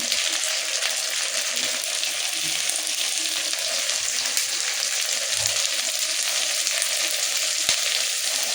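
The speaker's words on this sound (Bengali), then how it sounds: "ভালো করে ভেজে নিয়ে এবার দিয়ে দেবো ভাজা মশলা, যেমন গুঁড়ো হলুদ দেবো" Ground spices such as turmeric, chili powder, cumin, coriander and black pepper frying in a pan for a Bengali katla kalia fish curry give a steady, close, bright sizzle with faint stirring scrapes, and no talking.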